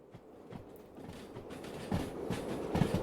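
A long train rolls along in the Derail Valley railway simulator game on a dark, stormy night, with rhythmic wheel clatter and low rumble building steadily, no voices.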